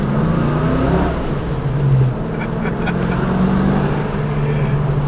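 A Ford Mustang GT drives along with a steady, rumbling engine drone inside the cabin, swelling briefly under throttle, and faint clicks and road noise around it.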